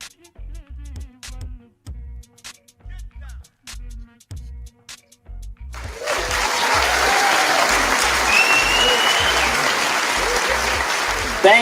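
A few seconds of speech give way to sustained audience applause, a dense, steady wash of clapping that carries on to the end.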